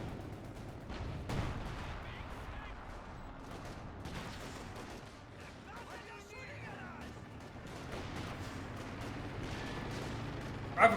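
Sustained gunfire and artillery in a Company of Heroes 2 battle, rattling bursts and distant explosions pounding an MG42 position, a dense steady barrage with one louder blast near the end, under a quiet commentator voice.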